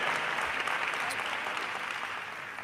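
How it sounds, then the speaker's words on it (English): Steady, dense applause from an audience at a Caribbean heritage celebration, honoring a woman named Yoselin; continuous clapping fills the whole stretch at moderate loudness with no talk over it. "Let's give her a round of applause"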